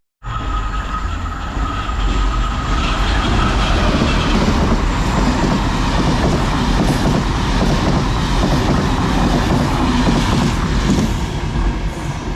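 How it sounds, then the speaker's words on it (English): A passing Class 201 diesel locomotive, number 227, hauling set 904 toward Belfast Central, rolls by loud and close with a steady rumble, wheel clatter and faint squeal throughout, no voices. "So passing there was 201 loco, number 227, and set 904 on the rear"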